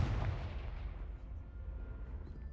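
A Confringo spell blast in the Hogwarts Legacy video game lands as a deep, muffled boom at the start, then rumbles and fades over the next two seconds, fairly quiet overall.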